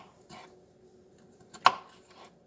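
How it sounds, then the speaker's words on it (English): A knife chops potatoes on a cutting board for ham and bean soup, with a few sparse, quiet taps and one sharper chop standing out in a mostly hushed kitchen. "We're just gonna chop them up."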